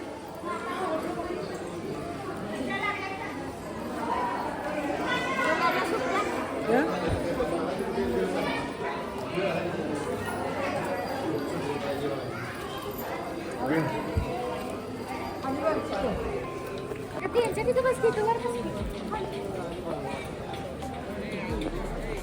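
A busy Saturday crowd chatters at Narsobawadi temple, a steady, dense babble of many voices close around with footsteps and movement, lasting throughout at an even level.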